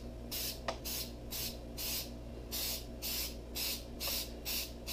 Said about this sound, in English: spray can